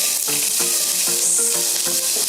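Seasonings hit heated oil with a loud, steady sizzle and frying hiss, stirred along the way, close up, with no one talking.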